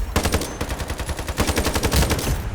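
Rapid automatic gunfire from the online shooter IronSight, loud and close, a dense run of punchy shots in two quick bursts separated by a brief pause.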